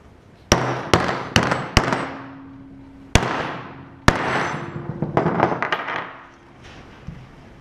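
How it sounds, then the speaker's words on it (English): A hammer drives a Powerglide transmission pump part into place, several sharp metallic strikes at uneven intervals with ringing decay, close and loud, followed by a flurry of lighter taps and clinks. "I'm gonna have to send it home with a hammer"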